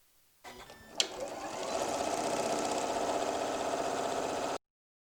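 Sewing machine running steadily as it stitches a quarter-inch seam around a reversible apron, set at stitch length 1.8; a sharp click opens it, then a continuous close, even whirring hum that stops abruptly near the end.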